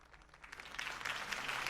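Crowd applause swells after a campaign speech in the Batman Telltale video game, a brief burst of clapping that grows louder toward the end.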